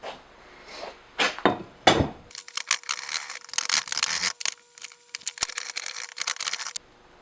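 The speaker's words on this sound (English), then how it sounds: "Draw knife is actually really handy here because spoke shave limits how deep you can go" A draw knife shaves a wooden hammer handle: a few separate scraping strokes, then a busier stretch of rasping cuts and clicks, close and fairly quiet.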